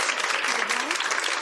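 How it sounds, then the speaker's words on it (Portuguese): Warm applause from a room of people welcoming a mother, steady clapping throughout while someone speaks over it. "Fui recebida com palmas."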